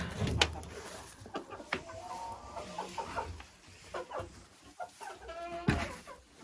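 A hen sitting in a nest, its feathers smeared with egg yolk, clucks and murmurs close by in a run of short, repeated calls, with a few sharp knocks and rustles among them.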